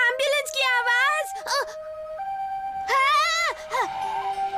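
Cartoon ambulance siren wailing in repeated rising and falling sweeps, loud and close, alternating with steady two-tone blasts and brief vocal exclamations in between.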